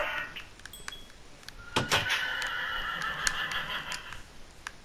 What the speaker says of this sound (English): And my horse laughing.